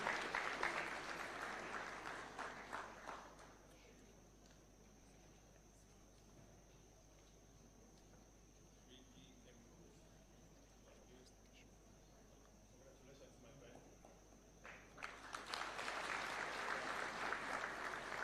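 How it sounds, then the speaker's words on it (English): An audience applauds at a taxpayers' awards ceremony in Kenya. Loud clapping opens the moment, drops to a quiet room with a steady high hum for several seconds, then returns in a fresh burst at the end. "A round of applause kindly."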